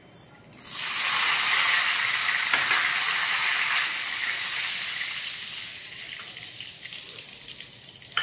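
Cardamom, cinnamon and bay leaves dropped into hot oil burst into a loud, bright sizzle that settles into a steady crackling hiss and slowly fades over several seconds, heard alone without talk.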